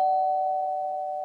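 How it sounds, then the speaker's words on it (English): A doorbell sounds a single sustained electronic tone, fairly close and steady, slowly fading over about a second with no talking. "Oh, that's my doorbell."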